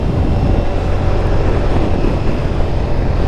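Steady, loud engine roar from a Ducati Diavel V4 motorcycle being ridden, a dense continuous rumble holding at an even pitch.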